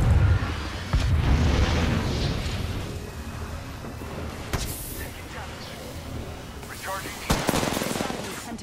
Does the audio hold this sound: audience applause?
no